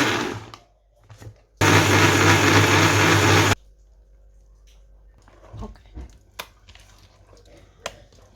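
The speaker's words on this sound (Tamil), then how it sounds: "இதை இப்போ வந்து நான் அரைக்க போகிறேன் கெட்டியாக அரைக்கணும்" An electric grinder runs for about two seconds, a loud steady whir as soaked red and green rice is ground into thick batter, surrounded by quieter knocks and handling sounds.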